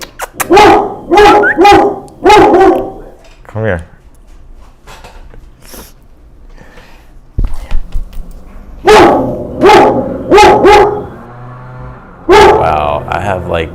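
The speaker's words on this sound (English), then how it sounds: "That's my dog." Pet dog Neo barks in loud bursts of several barks, rests, then starts again with more bursts near the end, with someone talking between the barking.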